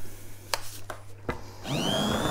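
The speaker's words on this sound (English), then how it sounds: "I'm going to hand blend." A hand blender starts up in a mixture with vanilla extract, a few knocks and scrapes first, then a steady rising whir as the motor runs, close by.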